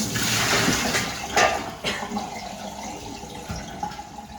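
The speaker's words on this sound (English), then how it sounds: "And then we'll dump this hot water out on top of all this." Hot water is dumped from a container over disassembled milking hoses and a lid in a raw-milk kitchen sink, a steady splashing pour with a few sharper splats before it settles into a trickle.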